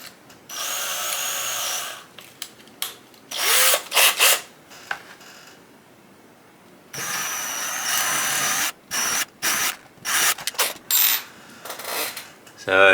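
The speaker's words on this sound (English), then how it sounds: "So now this is a 4mm drill." A 4mm drill bit bores into HIPS high impact polystyrene sheet in repeated short bursts, loud and close with uneven stops and starts, a longer run in the middle and brief pauses between.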